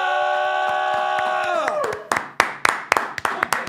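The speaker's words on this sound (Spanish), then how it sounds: "Quiero que recibamos con un fuerte aplauso a Marconi para!" An audience at a talk-show style event breaks into scattered clapping after a held musical chord fades, the claps coming in uneven bursts, close and fairly loud.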